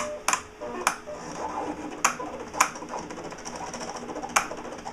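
An eCraft cutting machine works through Stampin' Up cardstock with a soft mechanical whir punctuated by sharp, irregular clicks and taps, fairly quiet and close.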